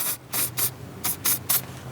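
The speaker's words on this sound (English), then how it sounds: "Spray a little lube on the lines" Six quick, short hisses of lubricant sprayed from an aerosol can onto power steering cooler lines of a Dodge Grand Caravan, close up, in two bunches of three with a brief pause between.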